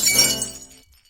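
Glass breaking as a radio drama sound effect: a single sharp, bright shatter with tinkling fragments that rings out and fades to silence within about a second, heard alone and close.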